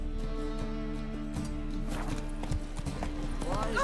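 Hooves of a horse clip-clop in The Witcher 3 video game, a steady walking rhythm heard over a low drone of game music and ambience. Near the end a voice speaks briefly over it.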